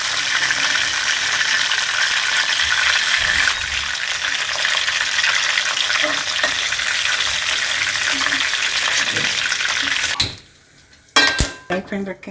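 Pieces of chicken for hotel-style chilli chicken fry in hot oil with a loud, dense, continuous sizzle up close. Near the end it cuts out abruptly, leaving a few clinks of utensils.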